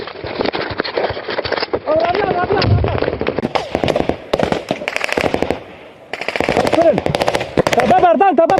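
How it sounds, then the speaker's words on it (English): Loud explosions and rapid bursts of gunfire during an assault in Ukraine, continuous and close, with shouting voices mixed in throughout. "Bomba!"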